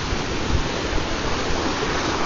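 Sea waves washing at Bad Wolf Bay, a steady broadband wash of surf with no distinct breaks, moderately loud and continuous.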